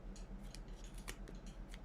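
Fabric scissors snip off excess zipper on a pillow cover being sewn, a quick rhythmic series of sharp close-up cuts, about a dozen crisp blade clicks in under two seconds.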